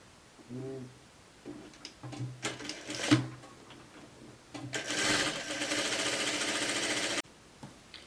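A domestic sewing machine runs a garment seam from armhole to hem, with short bursts of stitching and clicks, then a loud steady run of about two and a half seconds that stops abruptly, close and without talk.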